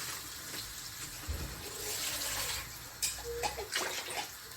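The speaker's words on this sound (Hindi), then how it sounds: "अब हम इसमें पानी ऐड करेंगे।" Water poured into a cooked spice masala for biryani in a pot, a gurgling, splashing pour that surges and fades in bursts, with a few clinks and sizzles near the end.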